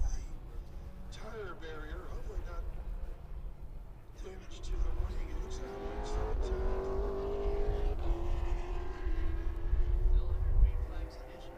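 Race cars circulate on track at Road Atlanta during a SpeedTour event, engines droning and rising in pitch as they accelerate past, steadily louder over the stretch beneath continuous commentary.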